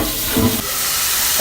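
Lumpia frying in a hot pan with no oil gives off a steady, loud broadband sizzle and hiss that holds for the whole stretch, with no voices over it.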